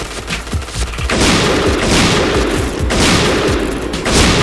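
Rapid automatic gunfire bursts in the online shooter Point Blank, loud sustained volleys with booming impacts layered close together.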